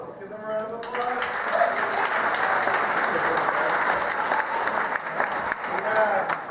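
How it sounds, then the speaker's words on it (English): A theater audience at a scout gang show bursts into loud, sustained applause, dense clapping from a large crowd filling the room close and steady throughout. "Let's give them a round of applause."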